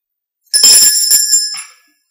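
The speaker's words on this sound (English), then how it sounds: "You may also ring the bell." A bell rings once in a stage production of The Importance of Being Earnest, a bright, clear ding with a sustained metallic ring that fades over about a second, close and alone.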